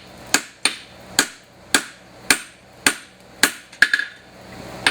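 Hammer striking a horseshoe on an anvil: eight or so sharp, ringing metallic blows at a steady, even rhythm, close and clear, with brief ringing decay between strikes.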